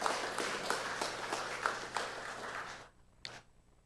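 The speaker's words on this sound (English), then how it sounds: "Give yourselves a round of applause." An audience in a chapel applauding after an emancipation lecture, a brisk scattered clapping that is moderately loud, then drops away abruptly near the end, leaving near-silence broken by one last clap.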